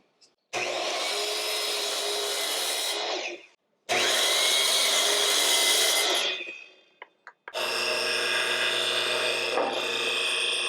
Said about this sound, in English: I'm just going to go ahead and cut the corners off on this miter saw